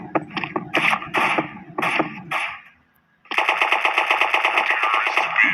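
Rapid automatic gunfire from a gun in a video game: several short bursts of loud shots, a brief pause, then a sustained stream of fast, evenly spaced shots, close and prominent with no talk.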